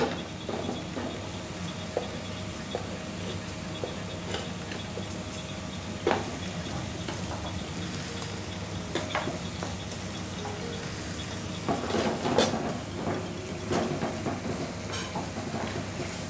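Perch fillets cut into strips cook with rice in a pan for a Lake Como style risotto, giving a soft steady sizzle with scattered light clicks and scrapes of stirring.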